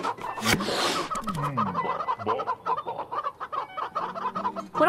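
A flock of video game chickens clucks and squawks continuously, close and lively, with sharp calls overlapping in uneven bursts and no talk.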